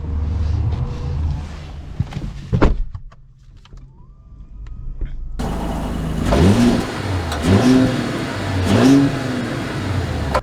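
A 2024 Mercedes GLE 450 SUV starts quietly with a brief thump and a thin electric whine. Its engine then rises loudly in several repeated surging revs, close and with no talking.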